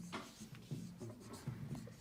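Felt-tip marker writing on a board, soft rubbing squeaks in short strokes, quiet and close, with no talk.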